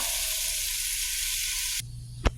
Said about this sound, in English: Sauteing these red onions.